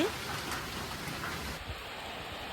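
Heavy monsoon rain falls steadily on the surfaces outside in an even, dense hiss that holds at a moderate level throughout.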